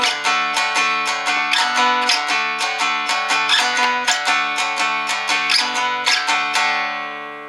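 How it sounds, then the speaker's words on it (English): An acoustic-toned guitar strums the first bars of a 12-bar blues in D with slides, in a steady, evenly accented rhythm, bright and close, with no voices. "if I apply that to the first 4 bars of the 12 bar blues in D"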